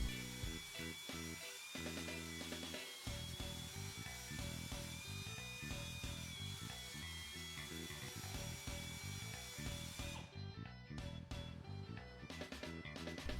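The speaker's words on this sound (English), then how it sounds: "Proper drilling with the appropriate size carbide cutter ensures complete damage removal while preventing further" A carbide cutter in a power drill bores through a tire injury, a high steady whine with gritty, pulsing grinding that runs close and continuous, then breaks into short stops and restarts near the end.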